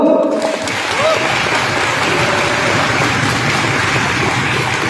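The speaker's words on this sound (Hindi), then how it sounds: "दोस्तों ताली तो बजा दो।" A large audience applauds loudly and continuously at a corporate celebration event, a dense, sustained roar of clapping that stays steady for about five seconds after a brief opening.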